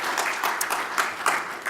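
An audience applauds a three-person panel presentation at an academic talk on industrial and academic research funding, with steady, moderately loud clapping from a roomful of people throughout.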